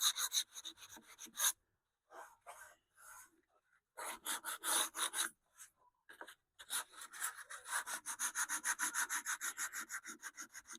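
Hand sanding on a wooden tube radio cabinet, done by hand near a thin patched seam: bursts of close, rhythmic scratchy back-and-forth strokes separated by short pauses, picking up into a steady fast stroking run toward the end.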